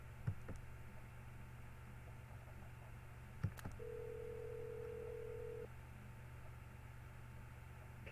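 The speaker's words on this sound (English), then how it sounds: "Pick up the phone, Larry." A telephone line in the Sally Face video game sits on a steady electronic tone that holds for about two seconds over a low hum, with a couple of faint clicks before it and no voices.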